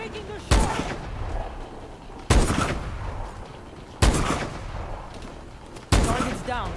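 Four heavy gunshots ring out in Call of Duty: Advanced Warfare, evenly spaced and loud, each a sharp blast trailing into a rumbling echo, with voices faint between shots.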